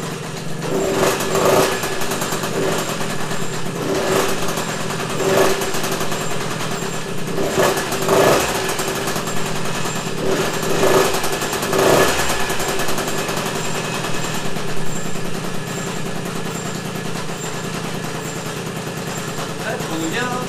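A Motoconfort 40V moped's small two-stroke engine runs after a restart, with a loud, rapid popping idle and a few sharp bursts of revving, steady throughout, while someone talks now and then over it.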